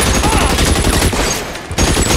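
Heavy machine gun fire in the video game L.A. Noire, a dense, loud, continuous rattle of rapid shots with a brief dip near the end before the firing resumes.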